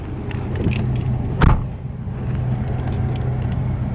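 A car with a head gasket repaired using IronTite, warmed to operating temperature and set off on a test drive: a steady engine rumble close by with a brief louder knock or clunk partway through, no talking.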